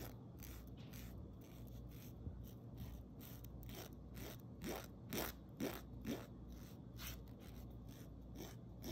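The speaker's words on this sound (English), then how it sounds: "you're going to file it down, almost like if you're filing your nails" A nail file rubbing across a gloss nail strip on a fingernail gives a series of close, dry scraping strokes, steady at first and then sharper rasps in quick bursts; no one talks.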